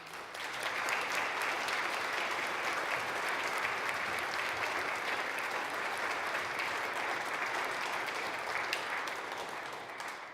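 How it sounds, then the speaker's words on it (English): Orchestra concert audience at a rural Minnesota music center giving a long, even round of applause, dense clapping from a sizable crowd sustained for about ten seconds before tapering slightly. "how about a round of applause for them?"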